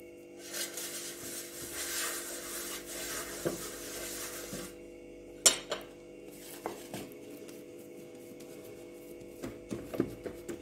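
Greasing a baking tray with oil by hand while making homemade bread: soft rubbing and smearing against the metal pan, then scattered light clinks and taps of metal, close and quiet.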